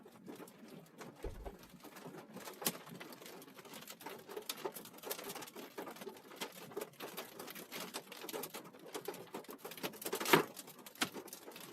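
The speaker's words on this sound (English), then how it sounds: "and you can hear some raindrops and hail." Rain and hail, some stones golf-ball sized, fall during a severe West Texas storm southwest of Bushland, producing dense irregular pattering and sharp individual clicks and knocks close by, fairly quiet overall.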